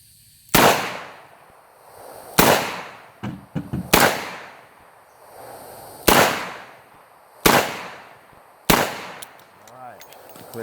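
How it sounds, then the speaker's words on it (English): A Model 66 revolver fires full-house magnum rounds on a shooting course. Six loud, sharp shots ring out at uneven intervals, each with a short decaying echo, alongside some fainter clatter. "Let's go see if we can clear this course with the revolver."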